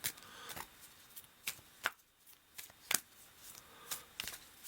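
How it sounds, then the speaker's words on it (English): Tarot cards are shuffled in a series of sharp, papery riffles and snaps, irregularly spaced and close by, with quiet pauses between them and no talking. "you take one, you shuffle and cut"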